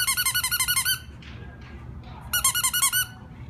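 Squeaky dog toy at a city animal shelter, two bursts of rapid rhythmic squeezes, about a dozen squeaks each, separated by a quieter gap with faint background noise, close and loud.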